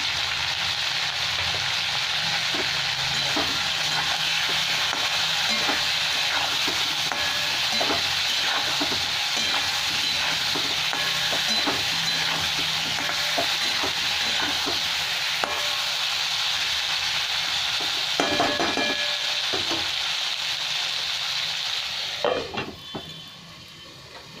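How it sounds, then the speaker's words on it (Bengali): Pieces of pointed gourd and potato, seasoned with salt and turmeric, fry in hot oil with a continuous close hiss and sizzle and occasional soft stirring knocks; the sound thins out near the end. "পটলের মধ্যে আমি নুন আর হলুদটা দিয়ে দিলাম, দিয়ে ভেজে নেব।"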